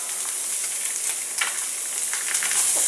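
Sausage fries in a pan, a continuous bright hiss and crackle of sizzling fat with small spitting pops, steady and fairly close, no voices.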